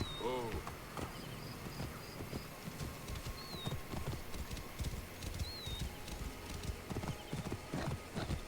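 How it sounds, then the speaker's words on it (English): Horse hooves clip-clop steadily across desert ground in Assassin's Creed: Origins, a continuous galloping rhythm with a brief whinny near the start and light game ambience underneath. "I like riding my horse across the desert"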